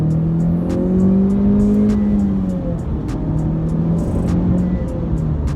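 A 2020 Honda Civic Type R engine revs up and accelerates hard from inside the cabin, pitch climbing through a gear shift, with a throaty exhaust drone throughout.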